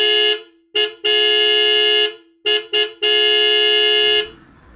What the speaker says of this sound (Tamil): இப்படி கண்டினியூஸா ஹார்ன் அடிச்சிட்டு இருக்காங்க.